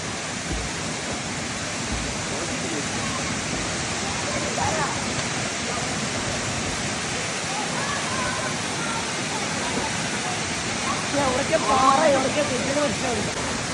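Kattikayal waterfall in Idukki roars as a loud, steady wash of falling water that fills the whole scene without pause.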